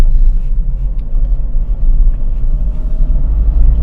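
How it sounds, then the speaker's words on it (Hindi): A car engine runs at around 2000 rpm while the car is driven through the gears. It gives a loud, close, steady low rumble with a slight rhythmic throb and no voices. "अभी 2000 आरपीएम के आसपास पे अच्छी खासी साउंड आ रही है इंजन के तेज आरपीएम होने की"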